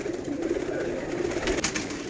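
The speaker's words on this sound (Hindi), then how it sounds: "टैडी, कमग्गर, प्रिंस कमग्गर, ये सब के सब कबूतर इसके अंदर शामिल हैं।" Highflyer pigeons at a seller's loft in Lahore coo softly in a short, low burr, quiet and close with no talking.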